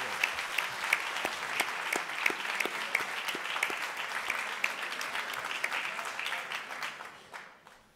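Applause rises from an audience at an award ceremony honouring organisations, many hands clapping steadily at moderate distance, then thinning and fading out near the end.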